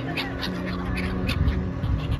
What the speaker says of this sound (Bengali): পাখিগুলা দেখতেও যেমন সুন্দর, তাদের কিচিরমিচির আওয়াজগুলো আমার কাছে খুবই ভালো লাগতেছিল।